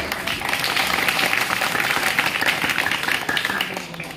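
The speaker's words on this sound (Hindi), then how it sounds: "एक बार जोरदार बच्चों के लिए तालियां" A crowd applauds two children from Raipur studying at Jawaharlal Nehru University, a dense, steady wash of clapping that runs loud and unbroken for the full span.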